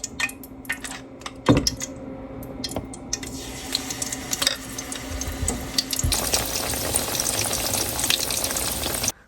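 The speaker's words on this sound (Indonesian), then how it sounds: "Jadi tempenya bakal aku goreng pakai tepung yang udah aku bumbuin." Battered tempeh coated in seasoned flour frying in hot oil: close crackling and popping sizzle that grows denser and steadier partway through, alone without speech.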